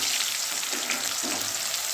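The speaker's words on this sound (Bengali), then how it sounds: "এদিকে আমার পেঁয়াজটা ভাজা হয়ে গেছে" Onions frying in oil in a pan while cooking a chicken curry with yam, a steady close sizzle with a couple of soft stirring scrapes, no voices.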